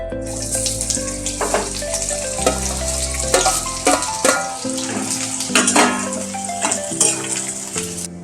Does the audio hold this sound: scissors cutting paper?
no